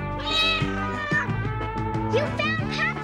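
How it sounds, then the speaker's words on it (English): A kitten meowing repeatedly and close, several drawn-out, tonal cries in a row over a faint background of music. "I heard her meowing."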